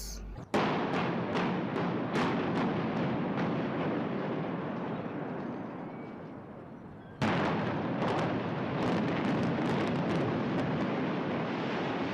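Earthquake footage in a school geography lesson: a dense, loud roaring rumble with repeated sharp cracks and crashes, easing slightly before surging again with a sudden burst of booming impacts, no voices.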